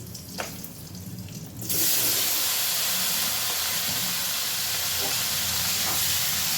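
Drained taro pieces hit hot oil seasoned with a chili tempering over a medium gas flame, and a loud, bright sizzle bursts in suddenly and holds as a steady hiss. A few faint clinks sound under it.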